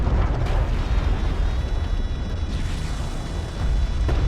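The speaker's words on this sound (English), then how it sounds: "I heard an artifact explode over in the background there." An artifact blowing up in the space strategy game Homeworld: Deserts of Kharak, a heavy rumbling explosion with sustained low booms and a few sharper bursts, loud and continuous throughout.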